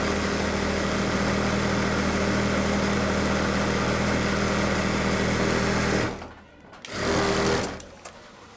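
An industrial sewing machine fitted with a presser foot stitches steadily and loudly for about six seconds, then pauses briefly, runs again in a short burst and stops, with no talking.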